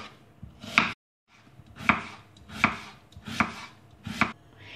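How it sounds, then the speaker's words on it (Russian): A knife chops an onion on a board in about five sharp, evenly spaced strikes, close and clear with no voices. "Мелко нарежем лук"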